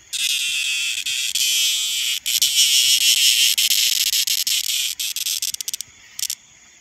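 A loud, harsh cicada buzz rattles close by in sustained bursts, stuttering into rapid choppy pulses before cutting off near the end.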